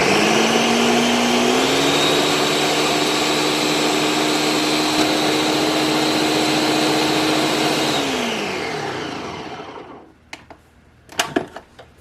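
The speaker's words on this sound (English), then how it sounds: "it's still quite chunky and stuff, so we're going to keep blending" A blender purees a chunky vegetarian pot pie filling, its loud steady motor whine holding for about eight seconds before spinning down, followed by a few clunks.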